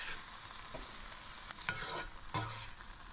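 Arugula being stirred in a pan over high heat, a soft steady sizzle with a few distinct scrapes and knocks of a utensil against the pan, fairly quiet and close.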